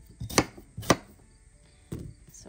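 A knife chops through a purple onion on a board in three crisp, separate strikes, two in quick succession and a third after a pause, close and fairly loud with no talking.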